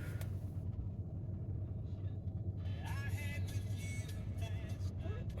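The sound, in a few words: Duramax diesel engine running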